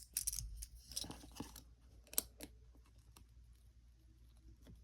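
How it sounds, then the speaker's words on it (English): A knife cutting through a small piece of soft indium metal gives a few faint, close crackling and scraping ticks, spaced irregularly over a quiet background with no talking. "I can test how hard these are by trying to cut them with a knife."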